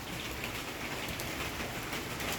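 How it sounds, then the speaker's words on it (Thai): Steady rain pours down in a dense, even hiss, with scattered drops pattering on a surface nearby. "ต้นไม้ได้ฝนธรรมชาติสิได้สดชื่น"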